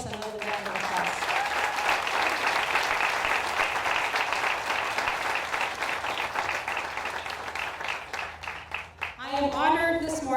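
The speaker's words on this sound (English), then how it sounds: "Let's give our band, led by Mr. Frank Hinojos, another round of applause." A school band at a Veterans Day ceremony gets a sustained round of applause from the audience, with dense, even clapping lasting several seconds. A voice speaks briefly at the start, and talking resumes as the clapping fades at the end.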